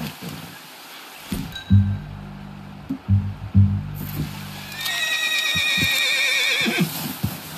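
A horse in the Red Dead Redemption 2 video game snorts and clops several heavy hoof steps up close, then lets out a loud, drawn-out whinny that trails off against a soft outdoor backdrop.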